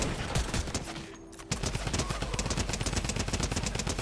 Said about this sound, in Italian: Spara velocissima la Tommy, eh?